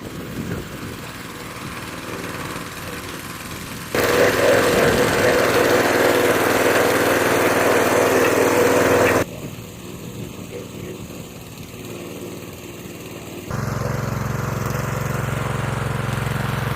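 A small tractor engine labours in second gear while working a village field, a continuous droning run that shifts in loudness and character across several segments, with occasional talk.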